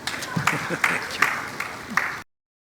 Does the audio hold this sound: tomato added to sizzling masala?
no